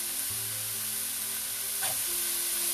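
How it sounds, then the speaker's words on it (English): Vegetables with beans, green peas and spring onions sauté quietly in a pan, giving a soft steady sizzle with a faint hum beneath and a brief clink midway. "Mix them and saute them for a little while till the veggies get cooked a little bit."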